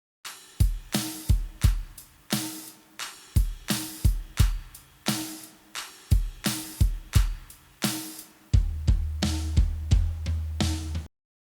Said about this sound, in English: And all together, the drums sound like this.